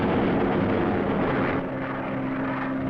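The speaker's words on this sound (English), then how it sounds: "These thunderbolts are dive bombers." Steady, loud engine drone of World War II P-47 Thunderbolt dive bombers in flight, a broad continuous roar with a faint low hum emerging near the end.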